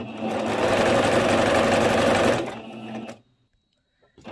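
A sewing machine gathers fabric for an elastic tiered skirt, a loud continuous whirring run for a couple of seconds, then it slows and stops into near silence with a faint click at the end.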